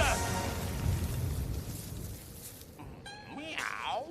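A cat meows in a few drawn-out, wavering cries near the end, following a stretch of background noise and speech.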